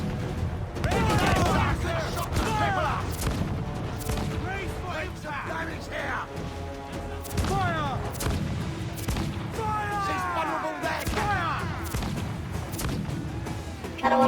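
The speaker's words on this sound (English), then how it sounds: "they're using mortars so close!" Mortar fire and naval combat in Assassin's Creed IV: Black Flag, a string of heavy booming blasts and crashes at irregular intervals, some close and loud, layered with whistling descending shells and battle clamor.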